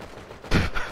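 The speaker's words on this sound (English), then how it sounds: "I'll give you cover with the pistol." Single sharp pistol shot from GTA 5 Online Motor Wars adversary mode, a brief loud crack with a short tail over low game ambience.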